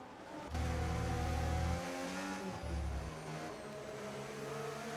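Formula 1 race car engines in the video game F1 25 whine and rev steadily, with a louder near engine surging for a moment and then easing into a continuous mid-level drone.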